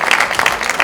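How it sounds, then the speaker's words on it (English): Brief burst of audience applause during a tree planting event, steady clapping from a crowd lasting under a second. "Please let's give KBAC a round of applause."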